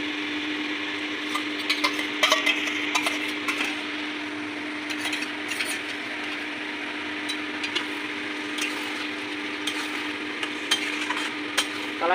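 Tomato sauce, chili sauce and soy sauce being stirred into chili chicken frying in a pan, with a steady sizzle under repeated scraping and tapping strokes of a utensil, close up and with no talking.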